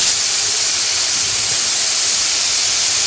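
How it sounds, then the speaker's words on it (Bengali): Water poured into a hot pan of cooking banana flower with prawns and chilli powder sizzles into a loud, steady hiss of steam that fills the whole moment. "সামান্য পরিমাণে জল দিয়ে দিচ্ছি"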